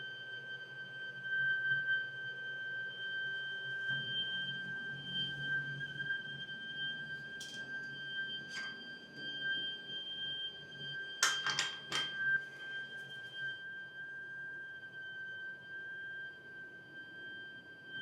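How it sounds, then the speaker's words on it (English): Hotel room heater in Singapore giving off a steady high-pitched whine over a low hum, with a few faint clicks and rattles scattered through about eighteen seconds, with no talking. "I think it's the heater."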